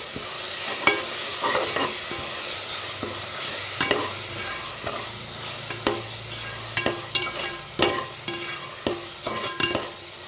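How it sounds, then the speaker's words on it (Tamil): Ginger garlic paste sautéed in oil while making kuska, a steady sizzling fry with repeated scraping stirs that grow more frequent toward the end, close and fairly loud with no talk. "இது நல்லா வதக்கலாம் எண்ணெய் விட்டு வர வரைக்கும்"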